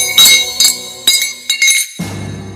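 A metal bangle slips off a hand and drops, giving several bright, ringing clinks in quick bursts that end in a low thud as it lands, loud and close with no talk.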